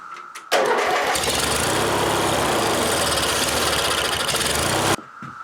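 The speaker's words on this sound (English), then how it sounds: "let's go ahead and try to start. It'll be a little hard to start at first so it gets fuel to it." An opposed twin Briggs engine with fuel and vapor-locking problems fires up after a brief cranking sound, then runs loudly and steadily for about four seconds before cutting off abruptly.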